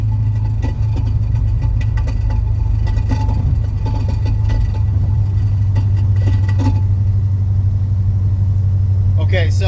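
A C6 Corvette with a suspected failing driveshaft runs with a steady low engine rumble near idle, a faint repeating knock or clatter riding over it throughout, with a brief voice near the end.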